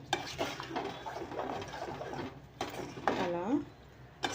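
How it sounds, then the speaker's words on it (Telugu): Jaggery is stirred into curdled milk in a pot over a low flame, giving soft scraping and occasional utensil knocks against the pot beneath steady talking. "మొత్తం అంతా కూడా బెల్లం వేసుకొని బాగా మిక్స్ చేసుకోవాలి బెల్లం అంతా కరిగేంత వరకు"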